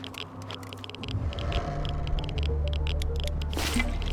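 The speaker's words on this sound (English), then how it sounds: "Of course, we want to fill our canteens." Water filling canteens in the video game Wasteland 2, heard as steady squishy gurgling and pouring with dripping patter over a low droning hum and game background noise, no voices.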